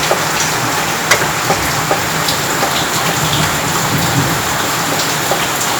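Heavy rain pours steadily, a dense continuous hiss with occasional sharper drop taps, loud and close, with no voices.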